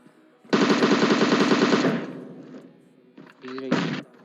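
Rapid automatic bursts of M762 rifle fire in the PUBG Mobile game: a loud sustained volley of about a second and a half, then after a pause a couple of shorter sharp bursts.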